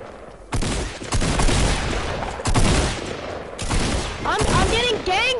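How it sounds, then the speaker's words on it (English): Rapid, loud bursts of gunfire from a shooting video game come in repeated volleys, with a voice talking briefly near the end. "Bro, he's trying to shoot me."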